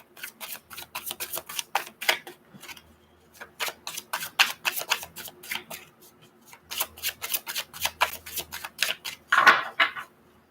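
Tarot cards being shuffled make rapid bursts of crisp riffling and flicking, close and fairly loud, in several rhythmic runs separated by short pauses, with no talk.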